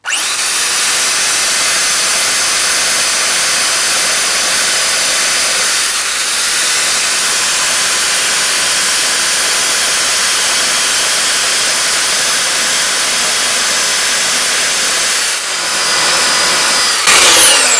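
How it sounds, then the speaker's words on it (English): Large power sander grinding a bevel into a 3 3/4 lb Craftsman axe head: loud, continuous abrasive hiss and whine that runs almost unbroken, with brief dips in pitch as pressure shifts. "So we can try this big sander"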